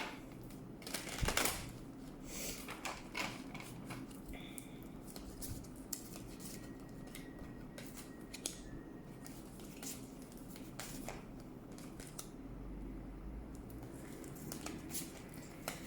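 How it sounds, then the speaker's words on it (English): Tarot cards being shuffled and pulled, soft close-up papery riffles and slaps in scattered bursts against a quiet room, with no speech. "Let's pull some oracle cards here. No, not oracle, some tarot cards"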